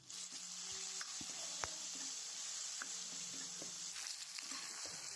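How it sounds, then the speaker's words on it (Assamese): Onions fry in a pan with a continuous soft sizzle while a utensil stirs them, scraping and tapping the pan several times, heard close and fairly quiet. "তাৰপিছত পিঁয়াজখিনি অকণমান দেৰি ৰঙা হোৱাকৈ ভাজি ল'ম।"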